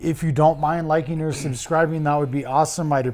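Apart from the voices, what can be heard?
No distinct noise like a dog, phone or traffic.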